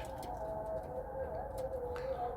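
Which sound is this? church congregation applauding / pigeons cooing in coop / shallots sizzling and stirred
pigeons cooing in coop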